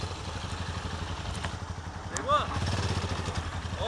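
A mini motorcycle engine runs on a motocross track, a faint buzzing putter heard from a distance, with outdoor background noise and a brief chirp partway through.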